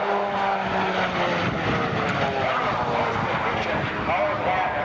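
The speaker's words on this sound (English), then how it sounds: "A jet engine through a reduction gearbox turning a propeller." Turboprop airplane engine at an air show, a steady droning propeller roar with tonal engine hum, continuous and fairly loud, with a voice talking over it.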